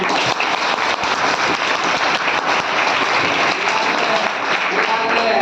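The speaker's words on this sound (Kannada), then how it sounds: "ಜೋರಾಗಿ ಚಪ್ಪಾಳೆ" A large crowd at a civic gathering claps loudly and without a break, giving a dense, even roar of applause that holds for several seconds.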